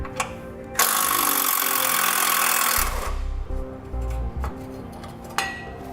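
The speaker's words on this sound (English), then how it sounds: "I'm going to be using a 10mm socket to remove that bolt." Power tool or impact wrench with a 10mm socket driving a bolt out of the frame of a 2007 Jeep Liberty, a loud sustained whir for about two seconds followed by lower grinding and clinks, close up.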